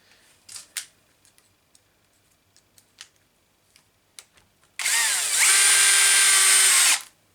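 Power drill driving screws into a Traxxas Sledge RC car during repair, a steady loud whir running about two seconds after a series of small clicks and taps.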